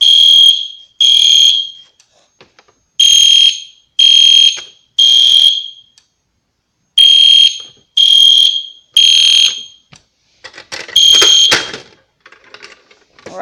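An EST Genesis fire alarm horn-strobe sounds during a test, blaring a loud electronic tone in repeated bursts of about a second each with short pauses between, close and alone without speech.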